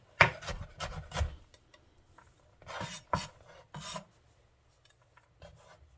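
Kitchen knife rough-chopping vegetable strips on a board, close and crisp: clusters of quick scraping cuts and thunks in short bursts separated by pauses.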